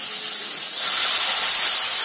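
Loud steady sizzling hiss as a little water is poured into spice paste frying in a pan, the hiss swelling brighter partway through and continuing alone.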